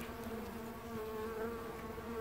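Honey bees buzz steadily in an opened beehive, a dense, continuous hum of many insects close by, fairly soft and with no talk.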